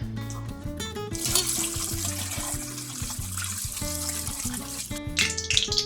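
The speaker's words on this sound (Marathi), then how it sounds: "आता आपल्याला ह्याला असं स्वच्छ धुवून घ्यायचं आहे।" Running water from a tap splashes steadily over fish being rinsed clean in a kitchen, a close continuous trickle and spatter under a faint musical background.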